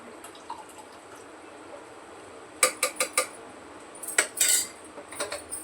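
Metal clinks and clatters as a lid is set onto a cooking pot of black amti in a home kitchen, a short burst of sharp taps followed by a second cluster of rattling contacts.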